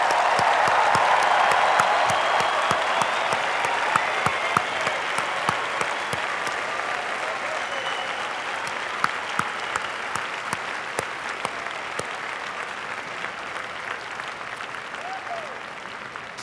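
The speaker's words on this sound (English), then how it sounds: "one more round of applause for all of our graduates" A large crowd of people applauds graduates at a University of Wisconsin–Madison commencement ceremony, sustained roaring clapping filling a big venue and slowly tapering over about sixteen seconds.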